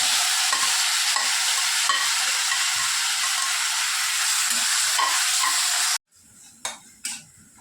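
Chopped onion, curry leaves and asafoetida hit hot oil in a pan with a loud, continuous sizzle and hiss for about six seconds, then the frying abruptly drops to a quiet bubbling with a few scrapes.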